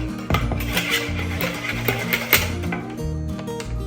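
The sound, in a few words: whisking honey mustard dressing in a bowl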